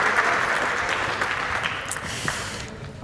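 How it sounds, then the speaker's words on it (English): Audience applause at a wine tourism conference for a group of experts, a dense and fairly loud wash of clapping that holds steady for a few seconds and then starts to fade. "Let's give a big applause for them."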